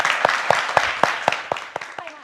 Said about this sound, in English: Can we give Dr. Emma a big clap?